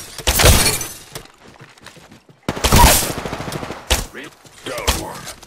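Gunfire in the video game Apex Legends: two loud, rapid automatic bursts separated by a brief silence, followed by a few scattered single shots and clatter, close and dominant.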